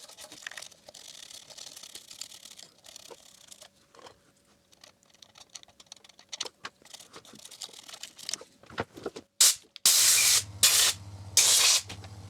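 Isopropyl alcohol sprays onto an amplifier chassis during a Tweed Bassman restoration: after quiet handling clicks and rustles, several short, loud hissing spray bursts come in quick succession near the end.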